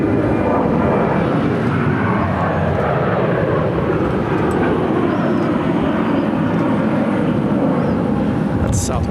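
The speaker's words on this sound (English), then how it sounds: "Southwest Airlines flight 1198 headed to Atlanta. 737-800." A Southwest Airlines Boeing 737-800 at Phoenix airport, on flight 1198 to Atlanta, gives a continuous loud jet roar, dense and steady throughout; a person talks in places over the engine noise.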